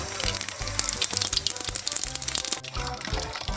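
Cumin and mustard seeds crackle and sizzle in hot oil in a pot on a lit stove, a dense, steady spitting close by, running alongside a rhythmic musical backing.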